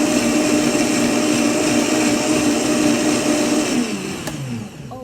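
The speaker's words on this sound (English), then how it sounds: "now I have all my ingredients in the blender, and I'm going to blend for a second" A blender whirs loudly and steadily for several seconds blending raw soup ingredients, then the motor winds down and slows near the end.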